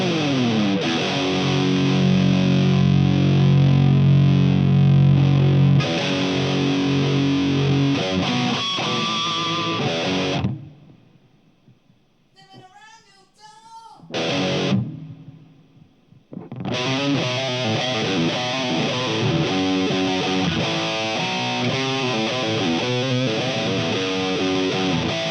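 An electric guitar plays through an amplifier on its modern voicing with heavy saturated distortion and no overdrive pedal, loud and sustained riffs and chords that drop to a brief near-silent pause with a few thin notes before the full distorted playing returns.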